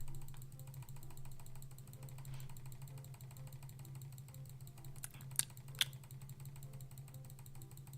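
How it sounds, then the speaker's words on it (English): Soft computer keyboard clicks tap along under a steady low hum from a Ctrl+Z undo key being pressed over and over, with a few sharper, louder clicks standing out near the end. "Mimi's gonna hit the undo button an ungodly amount of times"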